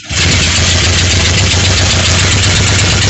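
An engine catches and runs on after carburetor work with the air filter box removed, settling straight into a loud, steady idle with a low, even throb close by that continues unbroken throughout, with no talking.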